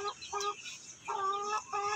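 Four-month-old Shamo Aseel chickens on a farm cluck in four distinct, evenly spaced bursts, clear and fairly close with quiet gaps between them and no speech.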